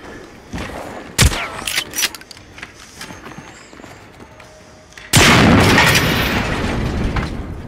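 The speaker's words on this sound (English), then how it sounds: "Gosh, there's nothing like shooting a shotgun" Shotgun blasts in the video game Generation Zero: a sharp loud shot, a few smaller pops, then a heavy booming blast that rings out, with no talk over it.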